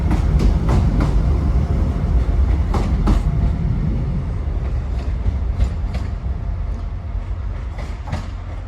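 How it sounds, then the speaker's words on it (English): Transport for Wales diesel unit 175008 passes through Shrewsbury station, loud and close, with a rumbling engine, rhythmic clickety-clack of wheels over rail joints, and a slow fade as it moves away. "here comes 175008 to Milford Haven from Manchester Piccadilly"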